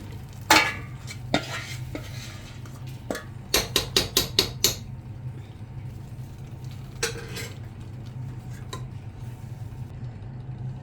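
A thick rice batter with fried coconut pieces being stirred in a cooking pot over a low flame, heard as a low hum under bursts of spoon scrapes and knocks, including a quick run of several taps, with no one speaking.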